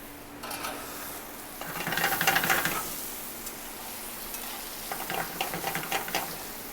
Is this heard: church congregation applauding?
no